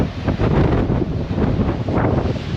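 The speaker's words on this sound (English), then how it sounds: "It's extremely windy today" Strong wind blows across high coastal cliffs above the sea, roaring and buffeting close to the microphone in continuous loud gusts with no speech.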